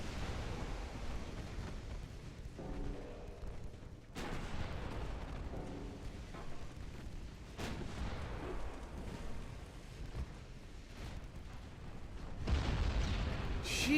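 Heavy 13-inch battleship guns booming in a naval battle in Ultimate Admiral Dreadnoughts: several deep, broadband blasts spread across the span, loud over a constant rumbling sea-and-engine backdrop, with a sharper burst near the end.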